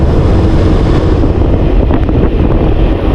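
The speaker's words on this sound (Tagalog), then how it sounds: "Dinagdagan pa po yan ng priskong simoy ng hangin" Steady, loud wind rushing across the microphone while riding along the Siargao Loop road, a continuous broadband roar with a low rumble, no voices.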